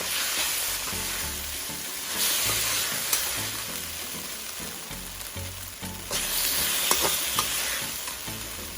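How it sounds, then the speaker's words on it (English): Beef stir-frying in oil for beef and broccoli sizzles loudly and continuously up close, with rhythmic scraping and tossing of a utensil against the pan, no voices. "Then I'm going to stir fry it the rest of the way."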